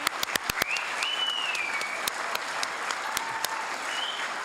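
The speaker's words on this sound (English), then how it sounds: "Let's give everybody a big round of applause." Audience at a city volunteer awards ceremony gives steady applause for the awardees, with sharp claps standing out near the front and a faint whistle rising over the crowd.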